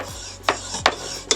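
A hand saw cuts through a bicycle fork steerer tube on a budget gravel bike build, guided by an old stem, giving three rasping strokes in a steady back-and-forth rhythm, close and fairly loud.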